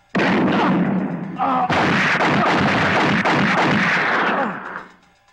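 A close, loud burst of rapid gunfire crackles almost without pause for about four seconds, with one brief gap, then trails off.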